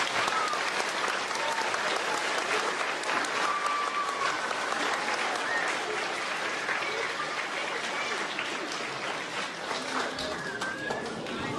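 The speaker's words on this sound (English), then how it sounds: "Let's give Ms. Christensen a round of applause." Audience at a school fifth grade step-up ceremony applauding a retiring teacher, with dense sustained clapping from a large crowd lasting the whole stretch, a few voices and cheers mixed in.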